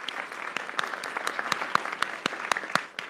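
Applause celebrating India's T20 World Cup cricket win, a steady patter of many hands with sharper individual claps standing out at intervals, moderately loud and continuous without talk.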